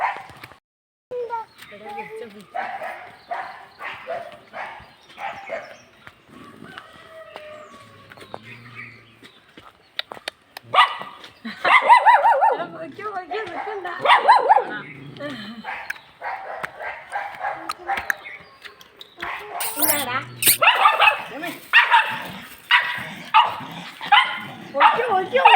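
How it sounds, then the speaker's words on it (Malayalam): Caged dogs along a forest road bark in intermittent bursts, some sharp and close, others yipping, while people chat throughout and birds call faintly. "കൂട്ടിൽ പട്ടികളുണ്ട്"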